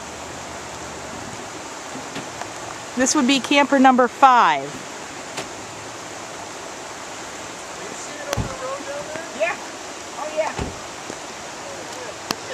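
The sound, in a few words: flooding White River rushing water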